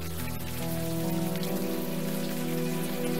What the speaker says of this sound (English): The rain isn't helping, that's for sure.